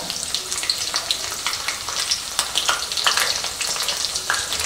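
Fried onion with a spoonful of ginger paste sizzles steadily in a pan, a close, continuous crackle with small pops throughout and no talking.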